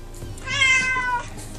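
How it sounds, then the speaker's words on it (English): A phone plays a cat meow as an email alert: a single clear, close meow about half a second long over faint room noise. "Yeah, I use the cat sound for email."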